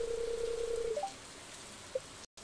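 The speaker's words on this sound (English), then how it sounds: "Standing in the rain outside of Pierre's, waiting for him to open so I can buy some seed" Steady soft rain hisses through a Stardew Valley farm scene outside Pierre's shop, with a long electronic game tone at the start, a short blip later, and a brief silent dropout near the end; no voices.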